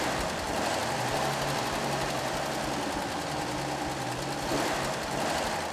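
A Toyota FJ45V Land Cruiser engine runs steadily after a carburetor tune-up, a continuous rumbling idle with a faint rhythmic tick, close and loud throughout, with no talking.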